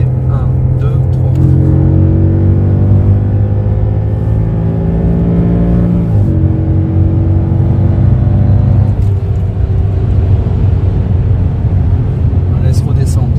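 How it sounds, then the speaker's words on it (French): The Lamborghini V10 engine of an Audi S8 with a custom-built exhaust revs hard and loud through downshifts, its pitch climbing and dropping in steps, roaring continuously up close. "Vous entendez déjà le moteur, il commence à gueuler."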